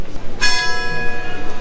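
A single church bell strikes loudly in Tenerife, its ringing tone lingering and slowly fading over a faint background murmur.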